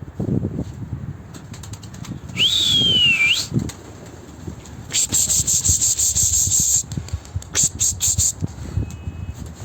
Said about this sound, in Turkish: Metin abinin kuşları uçuyor.